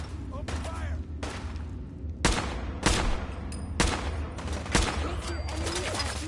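Repeated bursts of gunfire in the video game Fallout 4: several sharp, loud volleys spaced roughly half a second to a second apart over a constant low background hum, with no talking.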